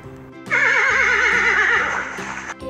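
A horse gives one long, loud whinny with a quavering, vibrato tone lasting about two seconds, close by, over light background music.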